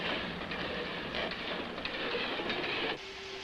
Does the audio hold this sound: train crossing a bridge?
yes